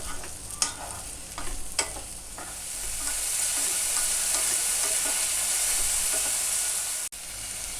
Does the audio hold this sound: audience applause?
no